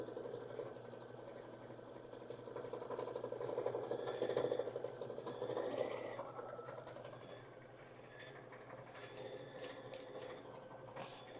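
An embroidery sewing machine stitches a sew out with a steady, fast mechanical whir and patter. It runs continuously at moderate volume, swells slightly in the middle, and faint voices can be heard in the background.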